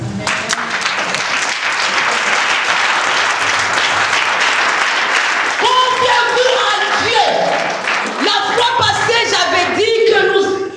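A church congregation breaks into loud, dense applause that fills the room for several seconds, then voices and singing-like tones rise over the fading clapping.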